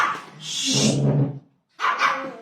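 A dog gives two loud, close yelping barks separated by a brief pause.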